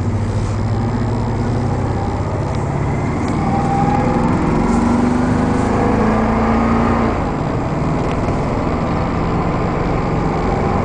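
A 2002 Chevy 3500 utility-body truck engine with a miss runs steadily at close range, a constant low rumble throughout with no talking.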